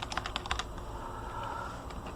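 Quick bursts of key presses on a computer keyboard, close and fairly quiet, as a password is typed in short clusters followed by a brief pause, with no talking.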